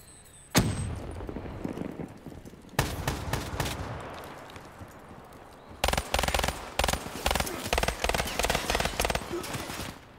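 Rapid automatic fire from a KN-44 rifle in Call of Duty, loud and close, starting in short bursts and turning to dense sustained volleys, with a sharp single shot at the start and no talk.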